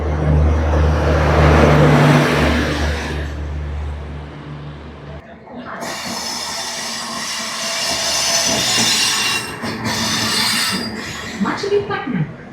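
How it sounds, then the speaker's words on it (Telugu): The Kondaveedu Express at Yesvantpur railway station in Bengaluru: a loud, close rumble of train cars and wheels on track, with screeching wheel squeal and clattering, under a station announcement. "బెంగళూరులోని యశ్వంతపూర్ రైల్వే స్టేషన్ నుంచి ట్రైన్ అయితే మొదలవుతుంది."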